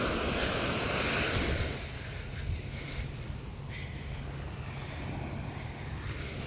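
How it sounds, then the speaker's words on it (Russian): A calm, flat sea at sunrise washes softly and continuously, with a low rushing surge that eases after a couple of seconds, under steady wind noise and no voices. "Такой штиль, спокойное море."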